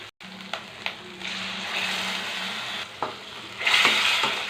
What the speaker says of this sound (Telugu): ఉల్లిపాయ పేస్టు, వేగాలండి